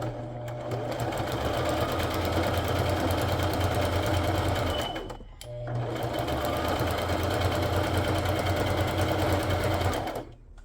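A sewing machine stitches a slimline journal base in two long continuous runs, each about five seconds, with a brief pause between them; the motor hum is steady and close.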